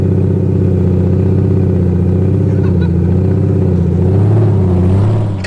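A Ford Mustang GT350 fitted with a swapped Barra engine drones and revs while driving, its loud, close engine note rising and falling with throttle before cutting off at the end.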